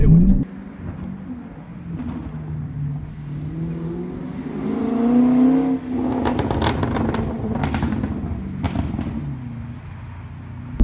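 A Jaguar F-Type R in dynamic mode rumbles and revs, its exhaust popping with sharp, rapid crackles and bangs during the latter half, heard close from inside the car.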